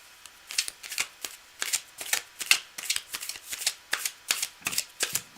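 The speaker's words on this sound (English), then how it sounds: "I'm just going to keep shuffling." Tarot cards shuffled by hand in a steady run of crisp riffling bursts, close and fairly loud, repeating rapidly with short pauses between, with no talk.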